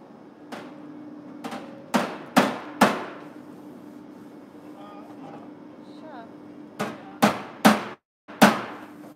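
Carpentry hammering on car front fenders: sharp, loud hammer blows in short clusters of three or four strikes, separated by quieter gaps with faint background hum.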